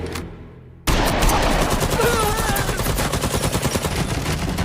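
A burst of film gunfire starts suddenly after a quiet opening: dozens of rapid, loud shots in a dense automatic volley that continues to the end, no talking.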